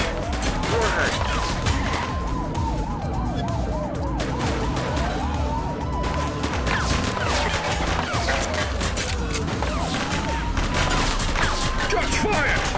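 Gunfire in the police video game The Precinct, bursts of shots mixed with wailing police sirens, crashes and shouted radio voices, all dense and loud together.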